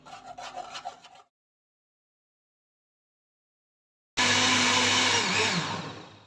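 Orange and carrot juice being worked through a sieve, a rough rubbing scrape for about a second, then silence, then a louder, sustained abrasive scraping that slowly fades.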